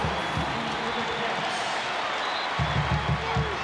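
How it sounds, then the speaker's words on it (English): Crowd noise swells in a college basketball arena during a Kentucky versus Arkansas game, a dense steady roar of cheering with sneaker and ball sounds underneath, loud and continuous. "Now they've started to ramp up the volume a little bit."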